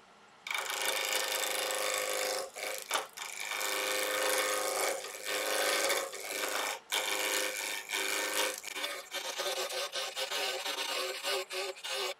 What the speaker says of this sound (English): I am starting off with a 1-inch roughing gouge.